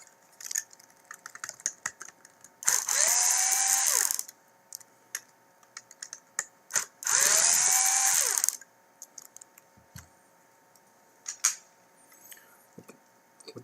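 Two screws are driven out of the LED housing of a TAO/LX7 main base, heard as two loud multi-second whirring bursts of a driver with small clicks and handling noises between them.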